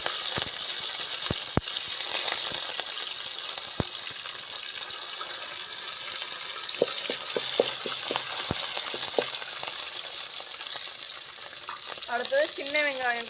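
Cinnamon, cloves, cardamom and curry leaves sizzling in hot oil for rotti kuzhambu, a loud steady crackling fry with sharp pops and spoon clicks, the sizzle swelling and whistling near the end.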